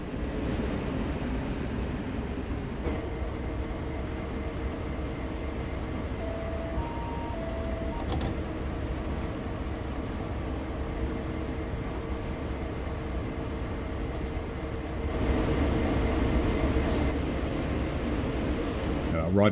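Diesel locomotive rumble from a Train Sim World SD40, a steady low drone with continuous rolling noise, a brief tonal whine midway, and the level rising slightly near the end.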